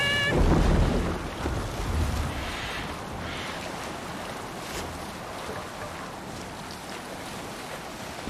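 A Viking longship sailing on the open sea in Assassin's Creed Valhalla, with steady wind and rushing waves against the hull, loud at first and then settling into a continuous wash.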